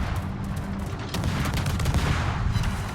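Naval gunfire in a warship battle game, with dense, continuous booming salvos and rumbling blasts filling the whole stretch at close, loud level.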